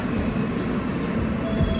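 A local subway train runs along the track, a steady close rumble of wheels and car noise filling the short stretch without any speech.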